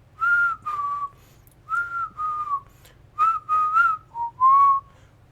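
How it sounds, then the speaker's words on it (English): Clear melodic whistling by a creature in the horror film Jeepers Creepers Reborn, a series of short tonal phrases with brief pauses between them, loud and close, with a low hum underneath. "And then this motherfucker whistles."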